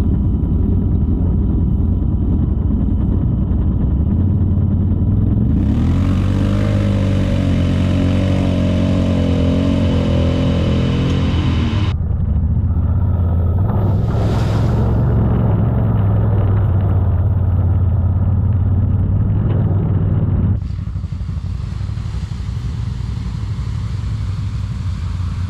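ATVs, including CFMOTO and Can-Am machines, ride through mud holes on trails around Ashland, Mount Carmel and Locust Gap, Pennsylvania, producing a loud, steady engine rumble with rises in revving and shifting pitch and no voices.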